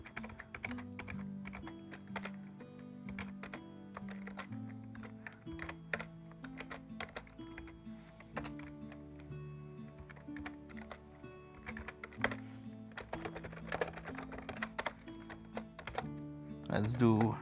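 Credit card details are typed on a computer keyboard in quick, irregular bursts of close, crisp key clicks, with scattered low speech in the background.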